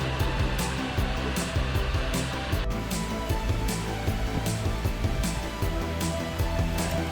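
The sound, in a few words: CNC mill and 3D printer running together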